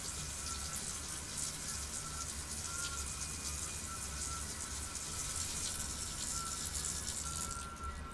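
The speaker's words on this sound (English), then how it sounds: "Now, we get some cold water to clean it up." Cold tap water runs steadily from a faucet to rinse a wound, a constant close hiss of flowing water with no break.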